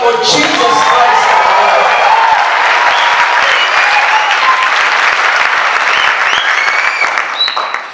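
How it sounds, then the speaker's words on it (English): A church congregation claps and cheers during a sermon, loud enthusiastic applause with scattered voices and whoops that carries steadily before tapering off at the end. "Give a hand clap for Jesus Christ."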